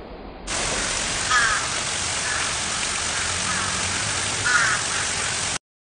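A crow caws a couple of times, short harsh calls rising out of a loud, steady hiss like rain or static that fills the whole stretch.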